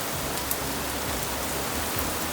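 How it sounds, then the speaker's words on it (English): Steady rain falls outdoors, a dense even wash of noise with a few louder drops standing out, and no voices. "You can hear the soothing sound of rain."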